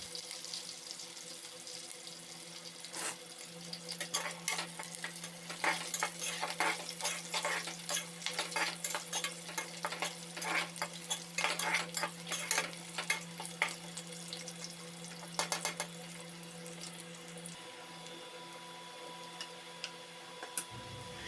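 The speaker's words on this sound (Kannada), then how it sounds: "ಈರುಳ್ಳಿ ಬ್ರೌನ್ ಆಗೋವರೆಗೂ ಸ್ವಲ್ಪ ಆಯಿಲಲ್ಲಿ ಫ್ರೈ ಮಾಡ್ಕೊಳ್ಳಿ" Onions fry in oil in a pan, a steady sizzle running throughout with repeated clattering stirs and scrapes, close and moderately loud, with no talking.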